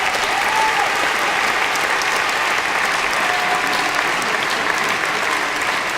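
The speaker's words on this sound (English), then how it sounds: "Give yourselves a huge round of applause for that." A large dinner crowd applauds loudly at a charity gala, continuous dense clapping at a steady, full level throughout with faint cheering mixed in.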